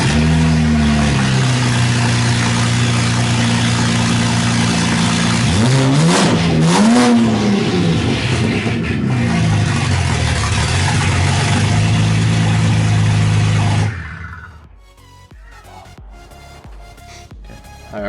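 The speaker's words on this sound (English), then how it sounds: "Now we're going to do a little open downpipe startup because YOLO." A BMW 335i with an open downpipe barks to life and revs hard, a loud raw rasp swelling and settling into a rough idle before cutting off, leaving clicks and quiet shop sounds.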